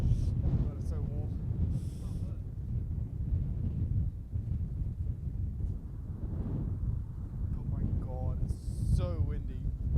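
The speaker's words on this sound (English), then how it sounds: "So windy." Steady low wind rumble buffets the microphone throughout at an airport during planespotting, with people talking over it.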